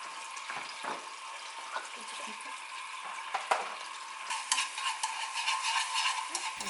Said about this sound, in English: the oil is heated, add a tablespoon of red pepper paste. When the oil turns slightly pink, add a tablespoon of garlic and 2 tablespoons of agave.